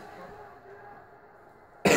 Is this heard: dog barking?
no